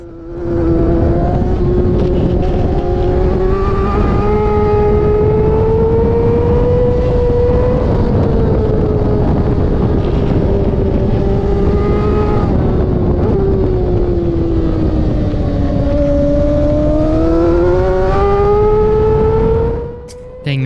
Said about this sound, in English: I can hear his bike right in front of me